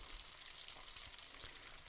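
Pasta frying in rendered fat for carbonara: a soft, steady sizzle and crackle, close and quiet, with a brief clack of a utensil at the end.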